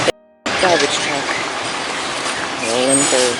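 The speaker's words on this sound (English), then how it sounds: "So the garbage truck" A garbage truck rolling past on a residential street, a loud steady engine and road rumble that swells near the end with a brief whine.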